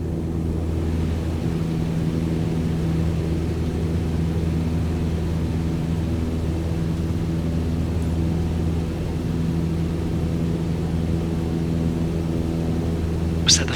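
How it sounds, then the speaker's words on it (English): In the Flight Simulator 2022 video game, a light aircraft climbs at full power, its engine giving a steady, continuous droning rumble throughout, with no talk over it. "Set full power now and set the climb attitude."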